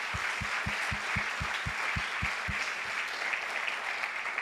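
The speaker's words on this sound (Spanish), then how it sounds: "Dale un fuerte aplauso a tu proveedor." A church congregation claps during a sermon, a broad wash of applause from many hands with a slow, regular low thump beating underneath for a few seconds, sustained throughout.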